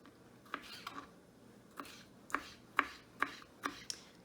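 A knife chops tomatoes on a board in sharp, irregular strikes, about nine quick taps, close and quiet, with no talking.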